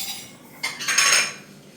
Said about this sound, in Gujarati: વાસણ ઘસો.